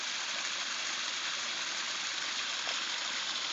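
A very active spring waterfall pours into a circular pool in the Eastern Ozarks after recent snow, giving a steady, dense roar of rushing water that holds constant and fills the scene without pause.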